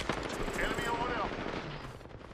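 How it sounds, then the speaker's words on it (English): Rapid gunfire in the Apex Legends video game rattles loudly through the first second and a half, then tapers off, with a voice talking over part of it. "I am taking fire, friends."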